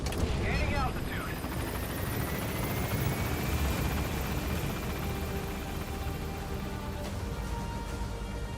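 Helicopter climbing in Metal Gear Solid V, a loud continuous rotor roar and whine filling the whole stretch, steady and close.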